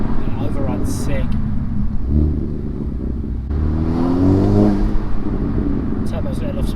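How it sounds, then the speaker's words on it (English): A Renault Megane RS Trophy with a full exhaust system revs and rumbles, with popping exhaust overrun and turbo whooshes rising and falling, loud and close, with a voice briefly heard under the engine. "Turbo's letting off some great noises now as well with that GPF."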